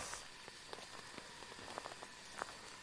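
Rain in Phasmophobia, heard from inside a tent at a woodland campsite, falls as a faint, even patter with scattered sharper drop taps, quiet and without any voices.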